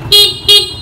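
A Yamaha Exciter 135 motorbike sounds its horn twice, two short, loud, close beeps with a brief gap between them.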